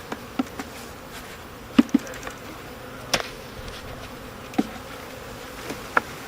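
Honeybees buzz and hum around a hive during installation in Ravenswood, Chicago, a faint steady drone broken by scattered close bee passes and light knocks of hive parts.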